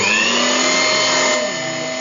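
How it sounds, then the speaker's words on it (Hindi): An electric chopper grinding onion for chapli kabab, a loud steady whirring motor drone with a high whine, easing slightly in pitch and level toward the end, with no talking. "ये देखिए हम चॉप कर रहे हैं और चॉपिंग भी हो रही है इस तरह से। ये ग्राइंडिंग हो रही है"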